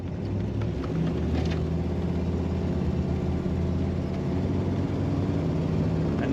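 A 1960 Buick Electra engine idles with a steady, low rumble, smooth and moderately loud, holding even throughout without revving.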